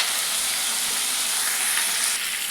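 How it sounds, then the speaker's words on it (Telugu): Onions and tomato fry in a pan, giving a loud, dense, continuous sizzle that holds steady from start to finish with no voices. "ఆనియన్ అయితే బాగా ఫ్రై అయిపోయి టమాటా కూడా యాడ్ చేసుకొని ఫ్రై చేస్తున్నాను"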